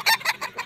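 A battle stag rooster gives several quick clucks in a row, close and clear, with no talking.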